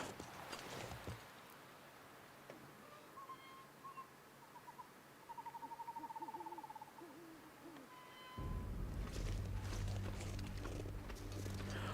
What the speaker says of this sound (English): some of the bird noises you hear do remind me an awful lot of capercaillie